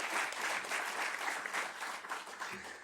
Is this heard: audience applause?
yes